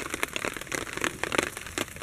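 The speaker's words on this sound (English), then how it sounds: "it's still raining" Heavy rain pattering steadily around an overnight bushcraft shelter, a dense crackling patter of drops on surfaces with irregular louder hits, close and continuous with no voices.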